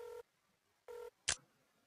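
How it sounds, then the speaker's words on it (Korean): Two steady electronic ringback tones with a pause between them, then a short click as the line connects, in a Korean mystery crime adventure game where a prepaid mobile phone places a call. "선불 휴대전화로 박근태에게 전화를 걸었다"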